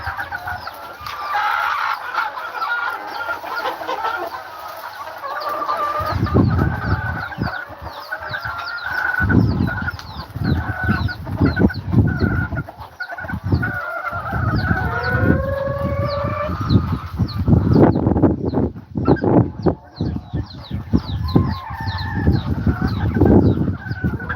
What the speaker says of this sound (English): I got 45-day chicks out.